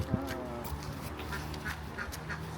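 Farm ducks quack in short, scattered bursts, some close and some farther off, while a person talks over them.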